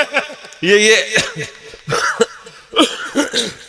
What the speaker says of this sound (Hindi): आज खांसी क्यों चल रही है समझ में नहीं आ रहा।